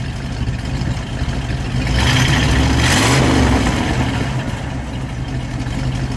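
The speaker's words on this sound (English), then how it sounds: "Go ahead, give it a rev." A 1959 Plymouth Sport Fury with a 318 V8 idles with a deep rumble, then revs up in a single swell around the middle before settling back to a steady idle, loud and close.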